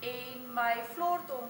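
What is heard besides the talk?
No everyday noise stands out behind the speech.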